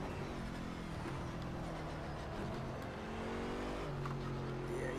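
A Bentley Continental GT3 race car engine lapping Silverstone in Project CARS, a steady loud drone that rises and shifts in pitch as the car accelerates through the gears, heard alone without talk.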